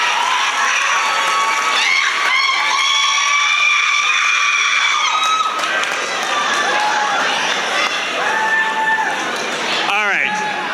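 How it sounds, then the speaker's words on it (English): A school election assembly crowd of students lets out a sustained cheer for the student government vice president candidates, with loud dense shouting and screams throughout and a few high voices rising above the roar. "One more big cheer for all our candidates for SGA Vice President."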